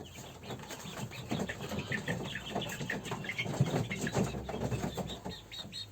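Five-week-old chicks in a brooder pen, about to be moved to a garden coop, chirp and peep continuously in a dense, overlapping chorus at close range, with occasional rustling and wing flaps.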